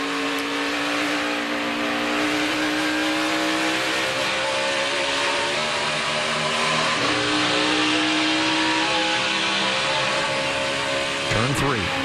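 NASCAR Sprint Cup race car engine on a 2015 qualifying lap at Dover, a loud sustained whine that rises and falls in pitch through the turns, heard under commentary.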